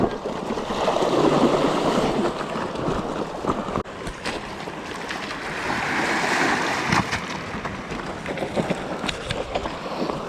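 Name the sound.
motorcycles fording through water on trail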